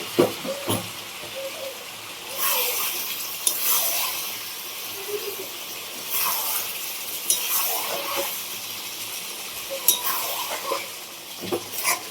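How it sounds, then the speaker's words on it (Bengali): A chicken and potato curry frying in a pot, a soft steady hiss and sizzle with repeated scraping stirs and light clinks of a spoon on metal at irregular intervals, close and without talk. "মাংসটা কষানো হয়ে গেছে এবারে জল দিয়ে দিয়েছে"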